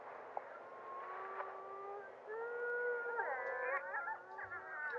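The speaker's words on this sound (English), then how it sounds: "So there's some howling at the beginning." Wolves howl close to the recorder, long sliding tones rising and falling, first one voice and then several overlapping with wavering pitch, loud and slightly clipped, alone without talk.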